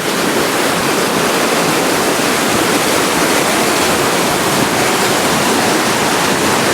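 River water rushes through a gap in a broken concrete weir, a loud, dense and steady roar of turbulent flow that fills the whole clip without pause.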